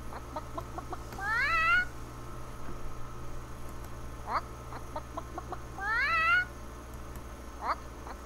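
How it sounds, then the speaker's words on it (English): Synthesized chicken clucks fired from a video-game macro, two short bursts of rising, rapid squawks a few seconds apart over a steady low hum. "Chicken sound we made earlier."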